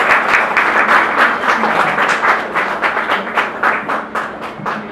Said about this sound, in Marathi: आपण सर्वांनी जोरदार टाळ्या वाजवून या ताईच्या दानाचं अनुमोदन करायचं आहे.